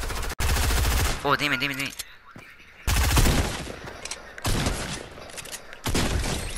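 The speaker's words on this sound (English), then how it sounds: "Where is he shooting me from?" Video game gunfire crackles in loud bursts, a sharp shot near the start and dense volleys later, with players talking excitedly between and over the shots.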